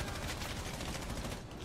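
Dense video-game gunfire rattles in a rapid, unbroken burst, loud and close, with no talk.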